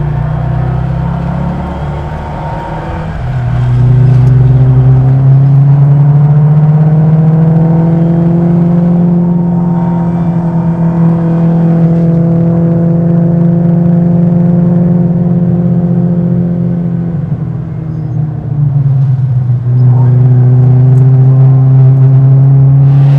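A 1957 Alfa Romeo Giulietta Sprint Veloce Alleggerita with Weber carburettors and four-speed gearbox pulling away: a loud, close engine rising from idle into a sustained rasping drone, easing briefly, then revving up again.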